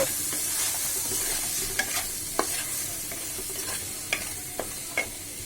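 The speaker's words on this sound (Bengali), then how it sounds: "এবার কিছুক্ষণ আমি চিংড়ি মাছকে একটু ভাজি করে নিব।" Shrimp fry in a pan with a soft, steady sizzle, punctuated by a few sharp spoon clicks and stirring scrapes, close up and fairly quiet with no voices.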